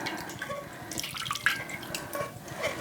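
Water runs from a tap over a tumbler being wetted in a sink, a soft, steady splashing trickle heard close up with no talking.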